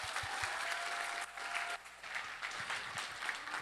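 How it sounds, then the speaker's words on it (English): Audience applause during a church outreach podcast segment, steady broadband clapping with a brief dip midway, then continuing with some scattered louder claps. "Everybody get that a round of applause."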